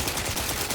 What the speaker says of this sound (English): let me get the shock assault rifle